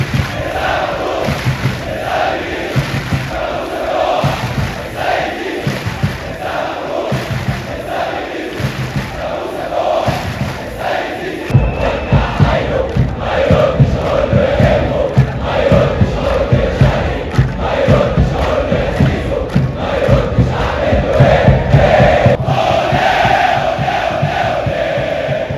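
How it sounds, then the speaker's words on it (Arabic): Al Ahly football fans chant loudly in a packed stadium before a league match against Modern Sport, a massive rhythmic crowd roar that swells and pulses throughout, close and continuous. "اول ما اللعيبه بدات تنزل الملعب جمهور الاهلي بعت رسائل معينه وقال"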